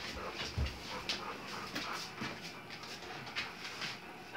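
A family's dog pants steadily and lets out brief whimpers, close to the microphone over constant background noise.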